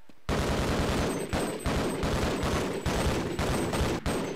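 Rapid bursts of sniper gunfire in Half-Life, loud and close, cracking out in a steady string of shots with brief gaps between volleys.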